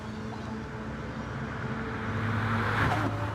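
Gr.3 racing car engines battling on the Nordschleife in a racing video game, a steady droning engine hum with sustained tones that swell slightly as the cars pass near the end.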